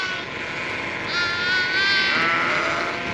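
A lone lamb bleating across a field, a single drawn-out, wavering cry heard at a distance over steady outdoor background noise.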